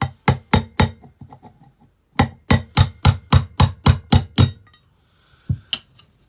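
Sharp metal-on-metal hammer blows drive a bearing out of a Rieju water pump with the back end of a punch or a socket, two quick bursts of regular ringing strikes with a pause between, then a couple of final taps.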